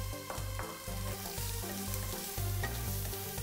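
Food sizzles and crackles in a hot wok while stir-frying noodles with shrimp and peppers, a utensil clattering and scraping against the metal in quick, uneven strokes.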